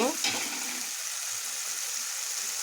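Red chili and cumin powder fry in hot oil for egg curry, a steady bright sizzle that starts with a brief stirring clatter and then holds even and close.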